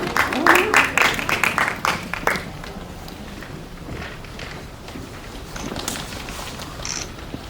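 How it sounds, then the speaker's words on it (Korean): Audience applause at a Korean film press screening, a burst of clapping in the first couple of seconds that quickly thins to a quieter room with scattered sounds. "큰 박수로 맞이해주세요."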